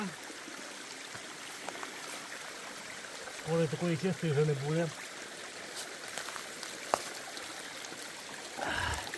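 A steady, close mountain stream trickles and burbles throughout, with someone speaking briefly over the flowing water.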